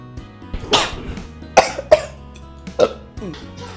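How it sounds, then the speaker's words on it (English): A woman coughs several times in short, sharp bursts spread over a few seconds, close and fairly loud, with a quiet room behind and no talking. "it's just ordinary cough"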